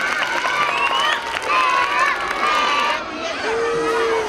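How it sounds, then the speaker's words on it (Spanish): An audience applauds five-year-old children at a school Constitution Day celebration, clapping mixed with children's shouts and excited chatter, lively and continuous with voices prominent over the claps. "un aplauso para los niños de 5 años"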